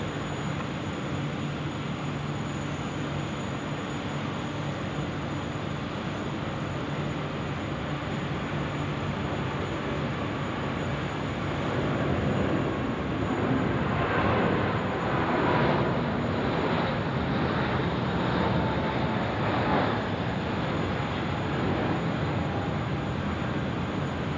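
An Airbus A380 airliner landing at Sydney Airport in wet weather gives a continuous broad engine roar that swells in the middle and stays loud to the end, with no talk.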